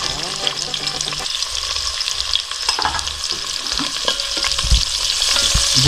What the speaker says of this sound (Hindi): ऑयल हमारा गर्म हो चुका है, हम इसमें ऐड करेंगे ऑनियन जो हमने काट के रखी है।